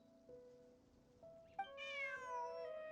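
A cat meows in a video game, a few clear, rising-and-falling calls that swell partway through, heard alone without talk over a quiet backdrop.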